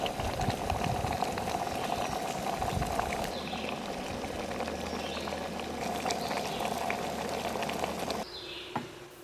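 A 1200-watt stainless steel kettle boils water at a campsite, with a continuous bubbling hiss that drops away near the end.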